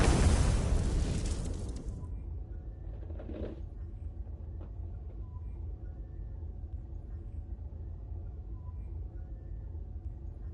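An explosion in The First Descendant video game erupts loudly at the start, then fades into a long low rumble with a faint crackle.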